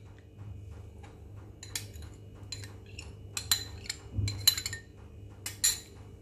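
Spoon stirring cream into egg curry gravy in a metal pan, with scattered clinks and scrapes of utensil against the pan, close and fairly quiet, no talking.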